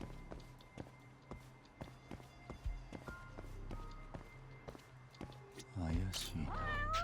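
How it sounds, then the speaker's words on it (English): A cat in the video game Judgment meows several times near the end, rising cries over game ambience with steady footsteps and small taps throughout. "Oh, look, a cat."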